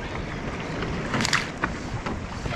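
Wind buffeting the microphone on a boat out on Waitemata Harbour, New Zealand, during saltwater fly fishing, a continuous rushing roar with faint water sounds beneath.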